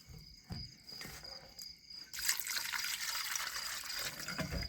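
Shrimp are washed in water, with a few soft splashes and handling sounds giving way to a steady rush of running, sloshing water for the second half, alongside a constant thin insect-like whine.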